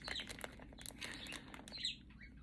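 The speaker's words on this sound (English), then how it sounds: "my birds are going crazy tonight" Pet birds chirp and flap their wings indoors, with bright, close, rapid tweets scattered throughout and soft fluttering rustles, with no speech.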